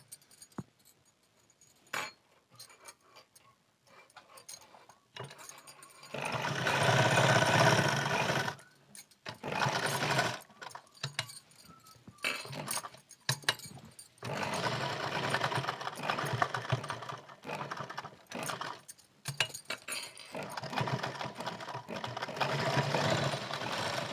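A sewing machine stitches a patchwork blouse in bursts of rapid mechanical whirring, starting and stopping several times with short pauses between runs, close and fairly loud in a quiet room.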